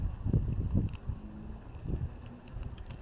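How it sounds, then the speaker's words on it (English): Gusts of wind buffet the microphone in low, rumbling bursts outdoors, rising and falling irregularly over a steady background hiss. "today is so windy"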